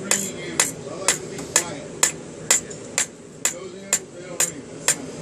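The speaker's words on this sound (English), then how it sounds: "when you're hammer finishing material" Sharp metallic hammer strikes on a fine silver bangle bracelet over a flat die ring out at a steady pace, about a dozen blows with brief pauses, over a low background hum.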